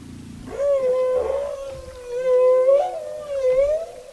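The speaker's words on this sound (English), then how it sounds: "this meetup provides the whales with the opportunity to have vocal jam sessions where they trade melodies" Humpback whale song from whales breeding off Gabon and Madagascar, with long, clear tonal moans that rise and fall in pitch, carrying rich harmonics, in three drawn-out phrases with no talk.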